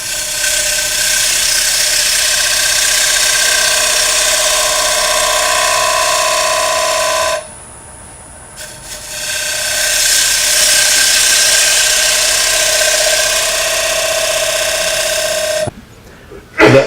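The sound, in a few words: wood lathe turning a platter with a gouge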